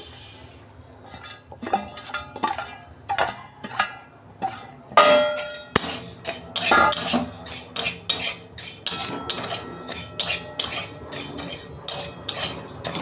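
A spatula stirs dry mung dal in a hot, dry pan, making repeated metallic scrapes and clinks in an uneven rhythm, close and fairly loud with no voice.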